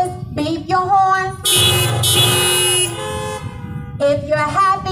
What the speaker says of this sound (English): If you thank God for 31 years, beep your horn.